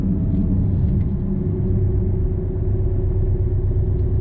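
A 2018 Porsche Cayman engine drones as a steady, low rumble heard from inside the car in automatic mode at light throttle, continuous and even with no talking.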